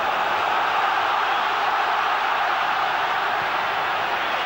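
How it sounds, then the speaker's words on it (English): A packed stadium crowd at the 1994 League Cup Final between Aston Villa and Manchester United roars in a loud, sustained broadband wash of cheering that holds steady throughout, with no commentary audible. "It's something at last for the Villa fans to cheer."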